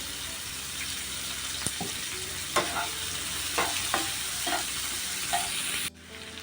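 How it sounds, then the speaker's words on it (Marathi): Onion softening in hot oil for a cauliflower bhurji, a steady close sizzle broken by several scraping stirs of a spoon, cutting off abruptly near the end, no speech. "आपल्याला कांदा टाकून घ्यायचा आहे तो पण तेलामध्ये नरम व्हायला द्यायचा आहे कांदा"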